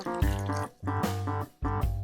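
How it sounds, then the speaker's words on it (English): Hot water is poured from a kettle over dried chilies in a pan, three short pulsing pours with gurgling, rising tones separated by brief pauses, close and clear with no talk. "we take some hot water, and we want to cover these chilies"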